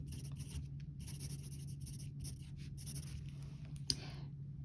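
Pen writing on paper, soft scratchy strokes in short bursts over a steady low hum, quiet and close, with one sharp tap near the end.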